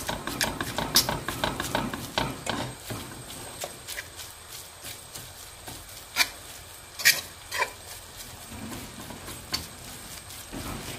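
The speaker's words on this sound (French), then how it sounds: "Je rajoute la viande hachée. Que je vais écraser avec une fourchette." Ground beef pressed and broken up with a fork in a hot pan, giving scraping, clicking strokes over a low sizzle, with irregular taps and rubs spread through the stretch.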